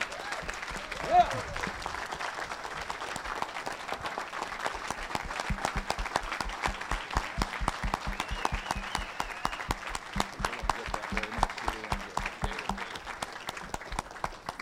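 Graduates and guests at an auctioneering college graduation ceremony give Jacob a long round of steady, rhythmic applause, the claps sharp and regular, with a brief voice near the start.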